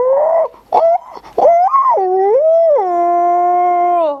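A person mimics a dog howling in the monsoon rain. A few short whimpering yelps lead into one long, loud, wavering howl that slowly falls and rises, heard up close with nothing else behind it.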